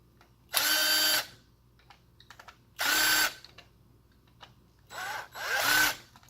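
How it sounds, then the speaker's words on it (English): A small electric screwdriver whirs in three short bursts, each roughly half a second to a second long, while backing out screws from a Sega Saturn controller, with faint clicks and handling between bursts and no talk. "There are 1, 2, 3, 4, 5 screws. Basically, just take them out."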